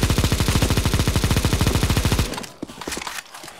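Rapid automatic gunfire in CS:GO zombie escape, a loud sustained burst of evenly spaced shots for about two seconds, then breaking off into a few scattered, quieter shots.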